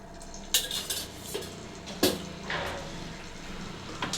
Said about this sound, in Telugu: ఆయిల్ పోసుకొని మంచిగా కలుపుకొని